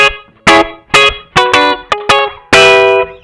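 Electric guitar through a Strymon BlueSky reverb pedal set to minimal decay, giving short, dry chord stabs: about eight loud strummed hits in an uneven rhythm, each cutting off quickly, the last one ringing slightly longer.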